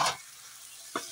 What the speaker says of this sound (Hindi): और अब मैं इसको इसमें डाल दूँगी उबले राजमा